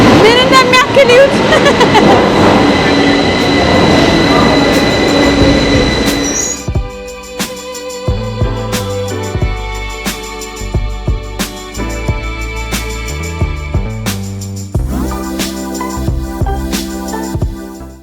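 A train pulls into King's Cross station in London. A loud metallic wheel squeal and rumble fade into a series of sharp clanks and tonal clicks as it slows under the station roof, with voices faintly around.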